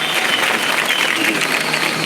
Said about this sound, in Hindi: अनंत कुमार जी के लिए बहुत जोरदार तालियां बज जाए।